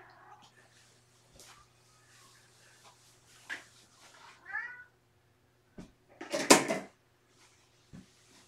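Kittens meowing at a litter box, a few short separate cries spread over several seconds with quiet gaps and light handling noises, close by and moderately loud.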